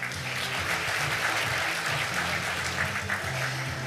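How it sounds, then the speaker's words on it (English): A large audience applauds steadily at the opening ceremony of a 2025 APEC SME Working Group workshop, a dense, even wash of clapping lasting throughout with a low hum beneath. "why don't you give another big round of applause to all participants"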